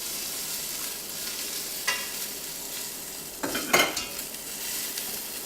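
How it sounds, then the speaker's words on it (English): Pork pressed fat side down into a hot pan sizzles with a soft, steady frying hiss, broken by a few louder bursts of spattering and scraping as the meat is moved, quiet and close. "I'm gonna flip this over on the fat side"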